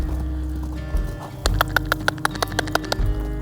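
A horse moves around a round pen, its hooves clip-clopping in a quick irregular rhythm of sharp, close thuds over a low steady rumble, with a brief neigh-like sound.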